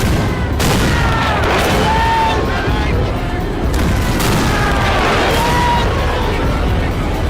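Cannon and rifle fire in the video game Total War, depicting the 1879 Battle of Isandlwana between British and Zulu forces: repeated deep booms over continuous crackling volleys, loud and dense throughout.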